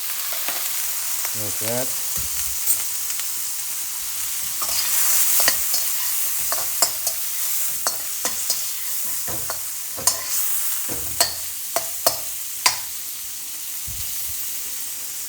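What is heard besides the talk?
meat frying in a pan for special fried rice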